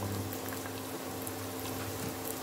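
Onion fries in a hot pan alongside melted corned beef, giving a steady dense sizzle and crackle that runs continuously at moderate level with no voices.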